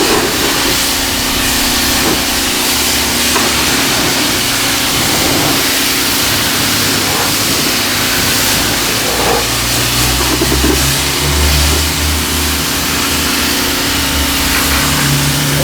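Greenworks 1700 electric pressure washer spraying a rinse, steady loud hissing water jet with a constant motor hum underneath, continuous and close, no talking.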